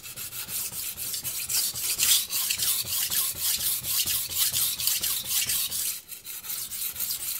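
Knife blade stroked back and forth on a Morihei Karasu 9k whetstone, a close, steady rhythmic scraping of repeated even passes running throughout with no talk.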